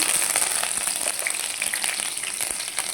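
Seeds and curry leaves crackle and sizzle in hot oil, a loud, close, continuous spitting hiss with dense sharp pops and no talk.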